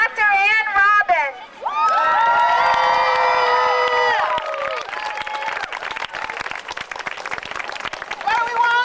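A rally crowd cheers and shouts together, loud and sustained, with yelling voices rising over the noise before it thins into scattered clapping and chatter.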